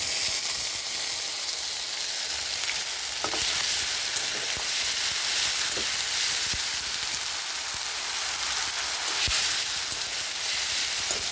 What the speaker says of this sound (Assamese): মই মিক্সিত পেষ্ট কৰি লোৱা আদা, নহৰু, পিঁয়াজৰ পেষ্টখিনি এড কৰিছোঁ এতিয়া